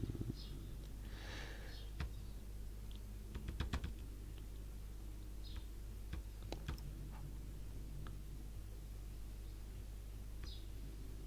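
Soft typing on a computer keyboard, a few scattered clusters of quick key clicks over a faint steady hum, with sniffs and long quiet gaps between bursts.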